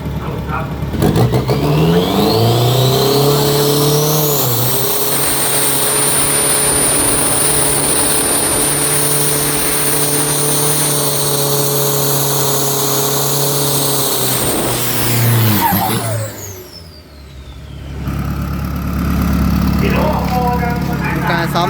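A Toyota Hilux Revo drag-racing pickup on a Bangkok drag strip accelerates hard, its engine roaring loud and steady for about fifteen seconds before dropping away, followed by another quieter engine rising in the distance.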